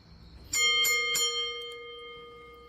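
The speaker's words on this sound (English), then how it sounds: "seems appropriate that we start this 50th off by ringing that bell" A bell rung three times in quick succession to open a wrestling talk show, each strike bright and ringing, the last tone sustaining and slowly fading; no talking.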